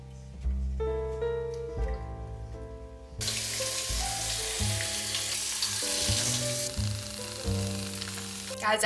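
Eggs frying in a pan give a steady crackling sizzle that swells to a strong, continuous hiss partway through, mixed with background music.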